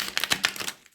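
A tarot card deck is shuffled by hand, a quick run of soft papery flicks and taps lasting about a second, close and fairly quiet with no talking.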